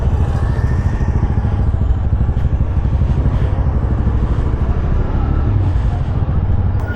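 TVS Raider 125 motorcycle engine, 125 cc, running steadily up close with a loud, even putter and slight mechanical clatter throughout.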